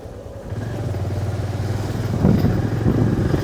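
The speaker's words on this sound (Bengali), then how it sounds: "গ্রামের রাস্তা দিয়ে অর্থাৎ বাইক রানিং করতেছি।" Motorcycle engine running close by on a village road in Bangladesh on a cold, foggy early morning, a steady low putter that builds slightly as the bike rides along, with some rattling and wind noise.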